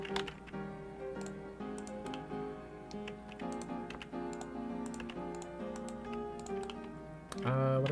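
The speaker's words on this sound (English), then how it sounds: "I think my keyboard is not where I'm used to it. Means I'm pressing my buttons wrong." Keyboard keys being pressed while someone builds a 3D model on a computer, quick irregular clicks scattered under steady background music, near and moderately loud.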